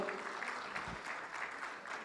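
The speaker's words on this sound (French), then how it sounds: "je vous demande, s'il vous plaît, d'applaudir Madame Inga" Audience applause for a panelist at the close of a conference panel session in Tunis, a soft, steady wash of clapping heard from a distance, faint throughout with a light voice briefly mixed in.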